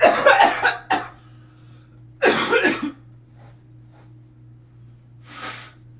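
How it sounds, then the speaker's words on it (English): Two harsh, close coughing fits, each a cluster of rough bursts, separated by quiet, with a low steady hum underneath and a soft breathy exhale at the end. "Y'all, when am I gonna get over this cough?"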